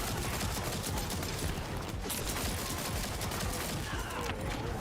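Wing artillery firing in The First Descendant, a dense continuous barrage of rapid gunfire bursts, steady and loud throughout with no talk.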